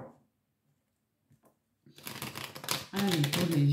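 Oracle cards being shuffled, a brief quiet rustle followed by rapid papery riffling and flicking that grows louder, with a voice speaking over the end.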